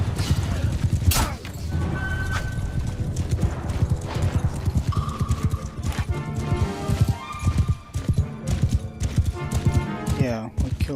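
Horses gallop in a battle in the game Mount & Blade II: Bannerlord, with dense, rapid clip-clop hoofbeats, occasional neighs and clashes of combat, while players talk over the action.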